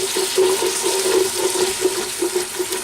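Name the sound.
stock being poured into a gumbo pan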